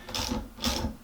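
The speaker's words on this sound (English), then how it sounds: "you're going to take your wrench and you're going to put it inside here, and you're going to want to loosen it" Wrench loosening a wheel nut on a Boosted Board electric skateboard, two quick ratcheting clicks close to the microphone with no talking.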